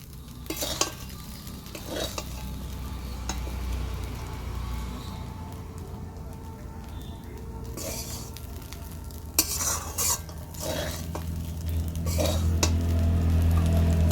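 Steady scraping and stirring of flattened rice pilaf (chirer polao) in a pan with a soft sizzle underneath, a spoon clinking against the metal now and then, close up.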